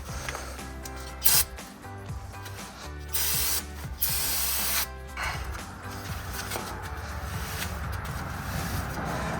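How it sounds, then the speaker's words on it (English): Brake cleaner sprayed onto the brake disc, slides and moving parts of a 2019-2023 RAM truck, heard as several short, close, loud hissing bursts separated by brief pauses. "some brake cleaner in order to clean off the braking surface and any moving components"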